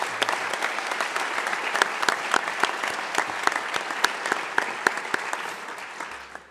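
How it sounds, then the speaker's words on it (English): Steady applause from an audience honoring Vermont State SkillsUSA medalists at a school ceremony, a dense, even patter of many hands clapping continuously with a few sharper claps standing out. "Please join me in giving a warm round of applause to our Vermont State Skills USA medalists"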